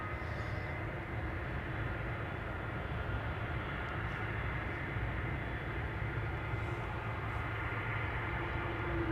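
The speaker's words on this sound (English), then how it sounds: "This is Bulgaria Air to Sofia. Bombardier C-Series 300, aka the A220." A Bulgaria Air Bombardier C-Series 300 (A220) airliner at Amsterdam Schiphol gives a steady, broad engine roar that holds evenly throughout, with no voices.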